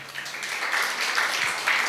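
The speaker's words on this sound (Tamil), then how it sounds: "கை தட்டுங்களேன் கொஞ்சம்." An audience claps at a CSI Christ Church variety program in Vattalur: a dense, steady wash of hand claps sustained at moderate loudness with no pauses.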